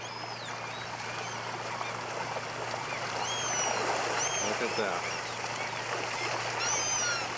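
An Alaskan salmon stream rushes steadily in a broad, continuous wash close by, with birds chirping faintly overhead and someone speaking briefly over the flow.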